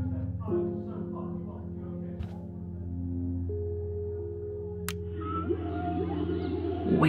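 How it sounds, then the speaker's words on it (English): Whale song drifts through a quiet room in the game Life is Strange, with long, low, sustained tonal calls and slow pitch sweeps playing steadily as ambient background. "Whale songs?"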